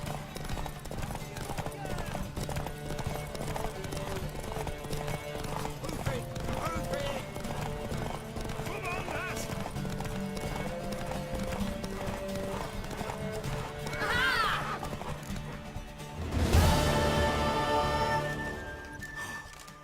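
Rhythmic horse hooves clip-clop steadily beneath background music and a voice in a video game, then a mare neighs loudly near the end.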